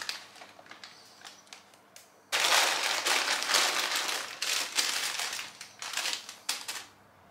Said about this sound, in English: I'm just packing this into a paper bag and I'll have it in the morning.